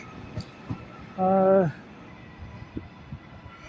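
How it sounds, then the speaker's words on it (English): A ScotRail Class 156 diesel unit, 156411, passes at Carlisle on the West Coast Main Line. A short, loud harmonic horn-like tone of about half a second sits over quiet station ambience with scattered faint knocks. "There's 156411 ScotRail"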